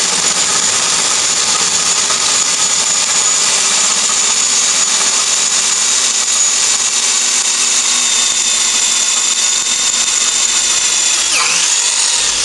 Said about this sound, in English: Okay, drilling done.